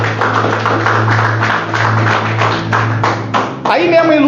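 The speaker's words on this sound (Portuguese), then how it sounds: "palmas para Jesus." A church congregation claps hands together in a steady rhythmic beat over a low hum. The clapping stops near the end as a voice begins speaking.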